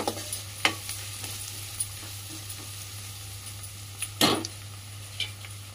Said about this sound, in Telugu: చూడండి, కొంచెం ఫ్రై అయినాయి కదా మంచిగా నూనెలో.